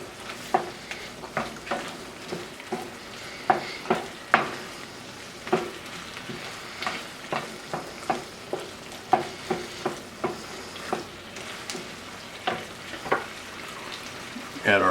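A spoon scrapes and stirs ingredients around a cooking pan in a regular rhythm of sharp clacks and scrapes over a soft sizzle, close and fairly clear, with no talking over it.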